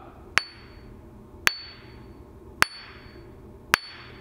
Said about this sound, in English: you tap the wheel to make sure it makes a ring noise